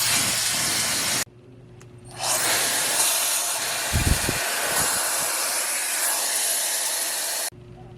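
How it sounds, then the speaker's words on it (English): Hair dryer blowing on hair during a get-ready routine, a loud steady airy hiss that cuts in after a brief switch, runs continuously for several seconds with a few soft handling bumps, then stops abruptly. "I'm just gonna dry my hair."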